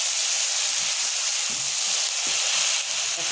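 Onion paste sizzles hard in a pan while it is stirred, a steady, loud frying hiss that runs without a break. Faint scraping from the stirring sits low underneath.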